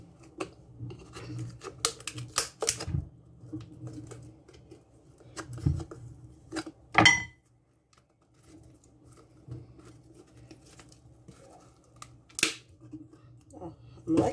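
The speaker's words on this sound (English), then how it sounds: "So I just have to remove the hard shell of it" Hard coconut shell being pried and scraped away by hand, a string of intermittent cracks, scratches and snaps, soft between bursts with a louder crunch midway, against quiet room tone.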